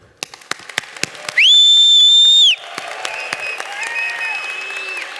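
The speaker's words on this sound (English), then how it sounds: "let's clap for each other" Audience at a tech conference bursts into loud applause, with a piercing sustained whistle riding over the clapping for about a second before the clapping and cheering carry on at a steady, busy level.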